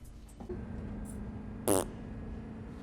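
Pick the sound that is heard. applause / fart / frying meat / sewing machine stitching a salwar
fart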